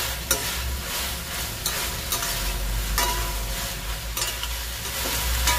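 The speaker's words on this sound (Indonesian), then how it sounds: "lalu kita masukkan cabai hijau dan cabai merah. Aduk-aduk agar semuanya tercampur rata." Green and red chilies stir-frying with tofu in a hot pan, Hong Kong style, give a steady close sizzle broken by repeated scraping strokes of stirring, with no talk.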